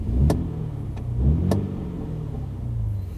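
A Mini Countryman JCW car engine idles with a low, steady growling rumble close by, with a few sharp clicks and swells in loudness.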